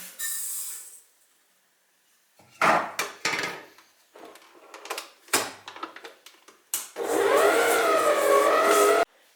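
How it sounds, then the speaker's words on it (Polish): Soft butter being creamed with sugar for a tea babka, likely by electric mixer, with a hissing start, a run of irregular knocks and clatters, then a steady loud whirring drone to the end. "Na początek miękkie masło ucieram z cukrem."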